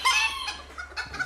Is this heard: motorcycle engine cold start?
no